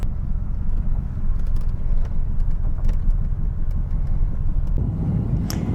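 A C3 Corvette pulling away on the road, its engine a loud, steady low rumble close by, continuous and without talk.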